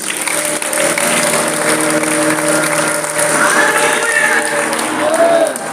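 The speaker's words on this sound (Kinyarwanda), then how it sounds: "Mukomere amashyi Yesu" A church congregation applauding for Jesus during a sermon, sustained clapping that fills the room at steady loudness for several seconds, with voices mixed in.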